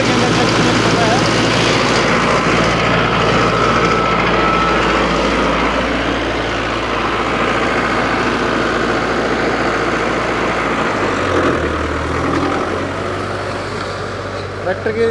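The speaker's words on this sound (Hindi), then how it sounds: "नॉर्मल मोड के अंदर ट्रैक्टर चलता है।" A 2023 Mahindra Novo 605DI tractor with a CRDI engine runs steadily close by, a low rumbling drone that shifts pitch slightly partway through, with no clear speech.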